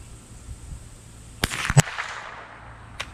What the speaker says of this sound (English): Just keep popping some rounds off here to see how I do.